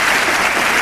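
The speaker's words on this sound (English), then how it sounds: "Round of applause. Standing ovation." A crowd gives sustained, dense, loud applause, steady throughout the short stretch with no voices on top.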